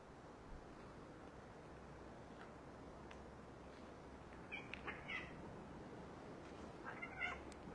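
Faint, muffled cat meows come from a distance a few times over a steady hiss of background noise.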